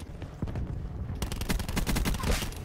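Rapid gunfire in Call of Duty Black Ops 4, a fast automatic burst of sharp cracks that grows denser and louder after a short opening, continuing steadily over game background noise.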